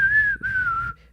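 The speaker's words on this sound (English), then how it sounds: "I'm whistling right now." A person whistles a single sustained, wavering tone that dips briefly and slides slightly downward before cutting off, close and clear with no talking.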